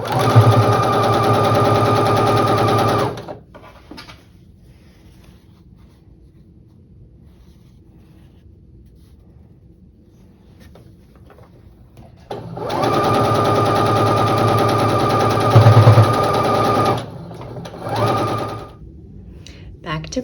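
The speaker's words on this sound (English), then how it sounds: "So I'm going to sew these, and then these down here, and then I'm going to sew the rows together to finish the block." A sewing machine stitches quilt block pieces and rows together in two steady bursts of fast, even stitching, each a few seconds long, separated by a quiet pause.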